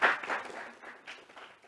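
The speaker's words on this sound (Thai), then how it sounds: "ขอเสียงปรบมือให้ดร.กาญจนาด้วยค่ะ" Brief applause from a seminar audience greeting Dr. Kanchana, a fairly close, loud burst of clapping that fades over under two seconds.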